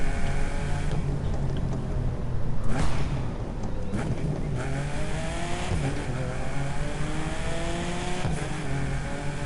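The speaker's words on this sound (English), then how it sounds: "If I'm not wrong, I hear a turbo in there." A turbocharged car in The Crew 2 revs its engine at close range, with a steady loud drone rising and falling through repeated throttle blips across the whole stretch.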